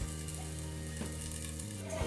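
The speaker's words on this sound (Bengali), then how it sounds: "আলু আর বেগুন দিয়ে নাড়াচাড়া করে একটুখানি ঢাকা দিয়ে দিচ্ছি" Potato and eggplant pieces fry in a pan while being stirred, giving a continuous dense sizzle with a steady low hum underneath and a couple of faint stirring knocks.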